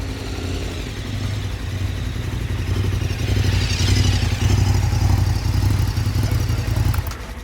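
A motorcycle being ridden, its mid-pitched engine droning steadily and swelling louder midway before easing off, with faint mechanical clatter and no talking.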